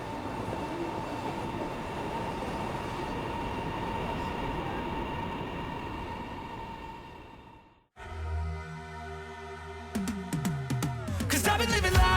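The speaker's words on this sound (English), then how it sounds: "The fastest train in China, the Fuxing bullet train, has a top speed of 350 kilometers per hour" Fuxing high-speed bullet train running on rails in China: a steady, loud rushing roar, then a sudden cut to the tonal whine and hum of the train at close range, with rising squeals toward the end.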